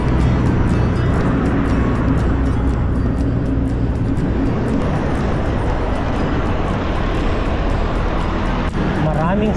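Dense, loud expressway traffic roars steadily throughout, a continuous wash of car engines and tire noise close by with no letup.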